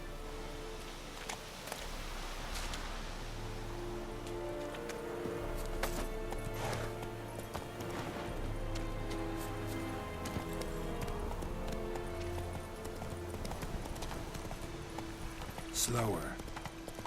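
Horse hooves clip-clop at a fast gallop in The Witcher 3 game, a continuous close rhythmic pounding mixed with game music and other sound effects, with a voice speaking over it at times.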